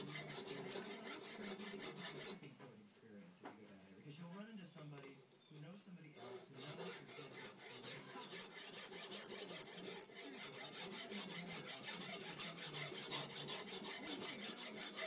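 A small 2 x 2 inch stone is rubbed back and forth against another stone to shape a tomonagura, a rhythmic gritty rasping that pauses briefly midway, with a voice faintly underneath.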